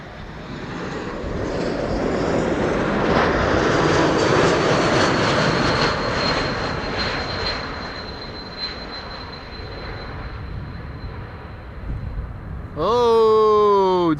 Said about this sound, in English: Air France flight 1500, arriving from Paris Charles de Gaulle, Bombardier C-Series 300, aka the A220